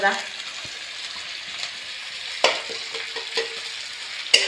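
Chicken biryani ingredients frying in a pan give a steady soft sizzle, broken by a few sharper crackles and pops, while a voice talks faintly underneath.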